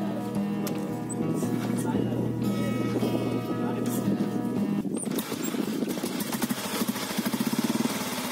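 A 1996 Royal Enfield Bullet single-cylinder motorcycle engine runs nearby with a low, steady thump that quickens toward the end, with someone talking over it throughout.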